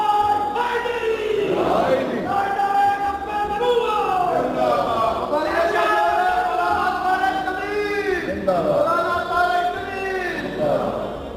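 A large religious gathering chants Allahu Akbar in unison, loud rhythmic massed voices rising in repeated waves, led by a call from a speaker.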